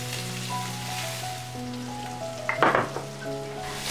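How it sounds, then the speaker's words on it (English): Crushed shallots sautéing in oil in a pan, a steady hissing sizzle under a low background hum, swelling briefly with a burst of crackle and stirring midway. "In the same pan, add more oil if needed, then add a handful of crushed shallots."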